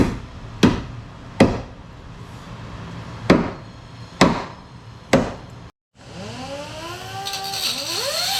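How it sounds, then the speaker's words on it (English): Several sharp metallic hammer strikes on a Jeep Commander during a tire fitting, at irregular intervals, loud and close, followed by a brief silence and a ringing, whining tone. "I'm gonna try smacking with a hammer a little bit too"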